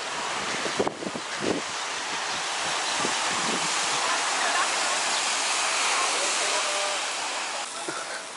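Waves washing onto a sea shore at Alanya, a broad steady rushing wash with wind buffeting the microphone, a few brief knocks near the start and no talk over it.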